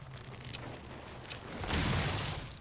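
Explosions in the video game Resident Evil: Revelations: a quiet rumble with a couple of faint bursts gives way to a louder, broad blast that swells and lingers near the end.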